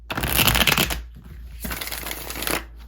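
Tarot cards being shuffled up close, two bursts of brisk riffling separated by a brief pause.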